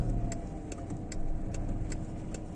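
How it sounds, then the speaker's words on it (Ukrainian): Cars drive past on a rainy street, heard as a steady low road rumble and wet hiss from a vehicle interior, with light regular ticking, likely a turn signal, clicking throughout. "Так, зліва тут машинка. Справа теж пару штук їде."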